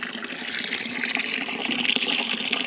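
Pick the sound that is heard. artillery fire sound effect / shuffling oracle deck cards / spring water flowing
spring water flowing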